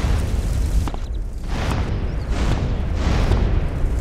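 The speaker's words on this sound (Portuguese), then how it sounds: "As explosões são bem potentes." A series of loud explosions from explosive jutsu seals in a GTA San Andreas mod booms in quick succession, each blast rolling into a continuous rumbling roar.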